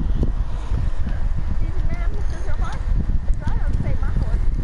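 Horse hooves clip-clop at a walk in the video game Red Dead Redemption 2, a steady close rhythm of hoof falls running under a voice talking throughout.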